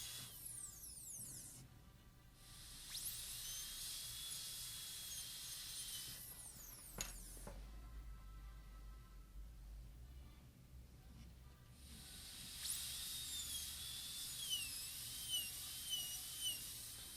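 A high-speed dental drill burr preparing the margin of a maxillary tooth for a porcelain-fused-to-metal crown whines faintly in bursts, starting and stopping several times with a soft hiss between.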